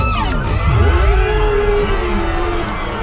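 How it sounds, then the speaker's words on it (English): Nythrag, an evil boss in a video game, falls with a loud, continuous wash of descending and wailing tones over deep rumble, steady throughout with no talking. "that's the sound of Nythrag falling"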